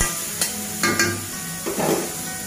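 Chillies, onion and garlic frying with coriander leaves for a mashed green banana dish, a steady close sizzle broken by a few sharp stirring scrapes and clinks of a utensil against the pan.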